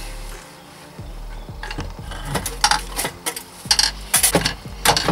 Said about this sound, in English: so let's get those cylinders on